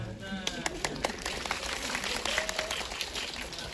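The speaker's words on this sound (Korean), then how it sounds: "여러분 심심하시면 박수 한번 해주세요" A cinema audience at a film stage greeting claps in scattered applause, the sharp claps coming irregularly, with voices talking underneath.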